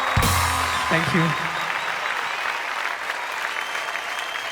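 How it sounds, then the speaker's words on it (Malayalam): An audience claps after a song at a music show with a jury, a brief sound at the start quickly giving way to sustained, dense applause that slowly thins out. "നല്ല കൈയടി"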